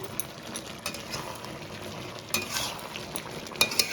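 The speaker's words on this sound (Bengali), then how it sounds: "চিনিটা দিয়ে আবার একটু নাড়াচাড়া করে নিচ্ছি" Bottle gourd curry with egg being stirred in a pan after sugar goes in: gentle bubbling and soft simmering with light scrapes and clinks of a spoon against the pot, quiet and close.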